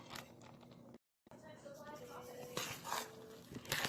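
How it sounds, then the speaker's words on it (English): Alkaline electric vegan loaf batter being stirred in a bowl, with quiet scraping and clinking of a utensil against the dish, soft and close, briefly cut to silence before the mixing resumes. "Just mixing away"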